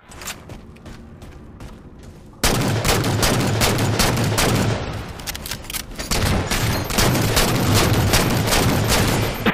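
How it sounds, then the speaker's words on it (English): Scatter shot ordnance in Halo 4 opens fire as a loud, sustained barrage of rapid gunfire and blasts, starting quieter before a sharp jump in intensity that stays dense and continuous to the end. "This is my first time actually ever calling in the scatter shot."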